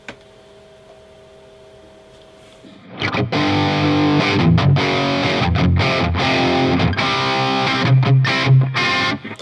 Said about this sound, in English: It's like a big fat distortion box.